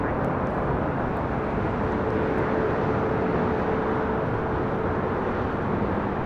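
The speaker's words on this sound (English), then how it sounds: "That Challenger 605 taking off to Vancouver." Challenger 605 business jet taking off at LAX, a broad steady roar of engine noise with a faint whine, loud and continuous throughout with no voices.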